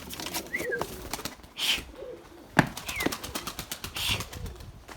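Young white Gökbey pigeons take flight, with soft wing flaps and fluttering bursts mixed with faint coos and chirps, heard fairly close against quiet outdoor background.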